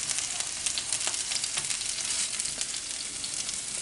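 Food sizzling in a skillet, a dense, even crackle of frying held close and steady for a few seconds with no voices.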